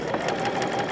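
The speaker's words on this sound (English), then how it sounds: "Do the sewing machine, sewing a couple inches before, a couple stitches before and a couple stitches after." Sewing machine stitching paper-pieced quilt fabric, a fast, even mechanical whir with a steady rapid needle rhythm, close and continuous over one second.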